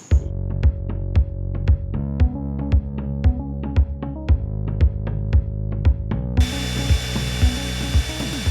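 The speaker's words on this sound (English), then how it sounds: "So we drilled a hole to make sure our angle was right." A steady whirring power drill bores a hole for a sailboat's baby stay fitting close by, with rapid regular ticking clicks throughout and a brief rise in hiss near the end.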